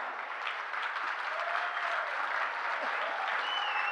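An audience at a Hindi comic poetry recital breaks into sustained applause, a dense, lively clatter of many clapping hands with faint whistles or cheers rising above it, steady and close throughout.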